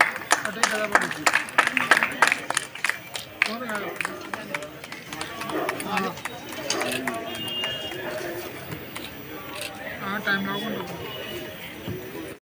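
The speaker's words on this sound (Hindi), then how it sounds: "एक बार जोरदार तालियों से" At the inauguration of a cooperative bank's new building in Kota, a crowd claps loudly and irregularly for a few seconds, then fades into general chatter and murmuring voices.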